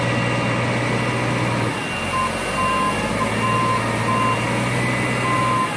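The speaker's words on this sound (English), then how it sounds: "Raising the truck up a little bit." A truck being raised gives off a series of short warning beeps at regular intervals over a constant low engine and hydraulic rumble, fairly close.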